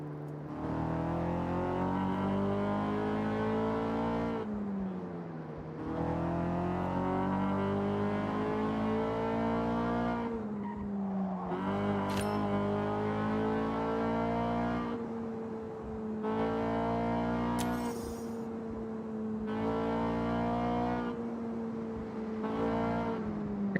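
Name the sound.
car engine revving, VTEC, in video game Forza Horizon 6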